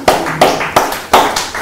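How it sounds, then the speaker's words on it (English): Hand claps in a sharp rhythmic series, roughly four to six crisp slaps spaced about a third of a second apart, close and fairly loud with no talking. "I'm clapping for you"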